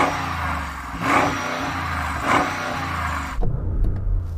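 A Range Rover SUV engine revs loudly up close, with two swelling rev surges over a steady rumble, followed by a sudden drop to a lower, rougher burble.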